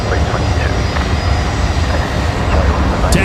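A Jetstar Airbus A330 rolls at Brisbane Airport, a loud, steady jet engine roar with broad rumble held throughout, heard from nearby.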